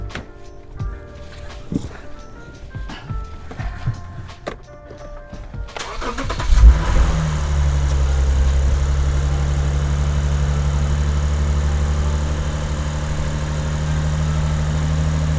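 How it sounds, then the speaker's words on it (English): After some quiet clicks and handling noises, a Lexus RC 350 F-Sport engine fitted with a cold air intake cranks and catches with a thump, then settles into a steady, loud, close idle hum. "I left a microphone next to the engine so you guys could hear it"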